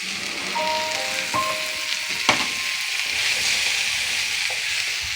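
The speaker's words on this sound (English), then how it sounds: "So I'm going to saute my mushrooms." Mushrooms sauteing in grapeseed oil in a home kitchen give a steady, close hiss of sizzling, with a few faint clinks and scrapes of stirring.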